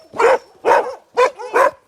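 Dogs in a snowy kennel give four loud, close barks in a steady rhythm, each bark short and separated by brief pauses, with no talk over them.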